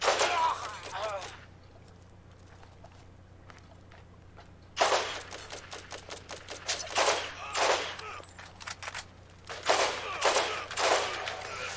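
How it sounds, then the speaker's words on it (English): Rifle firing bursts in the Borderlands game, loud clusters of rapid shots separated by a quiet gap, with several short bursts near the end and brief talk heard between them. "I've still got the same rifle here that only holds 12 rounds in the magazine. 4 bursts and I'm done."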